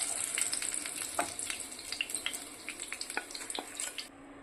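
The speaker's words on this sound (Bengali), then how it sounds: "এখন মাছগুলোকে খুব ভালো মতো করে ভেজে নেব।" Pomfret fish frying in a pan, a steady close sizzle with scattered sharp oil pops and crackles throughout, easing off near the end.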